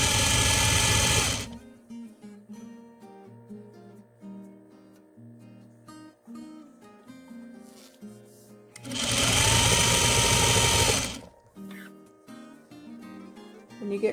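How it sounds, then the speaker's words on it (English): A sewing machine stitches bias tape onto a fabric face mask in two loud close runs of about a second each, separated by quieter handling and soft background music. "So here's a closer look at sewing the bias tape."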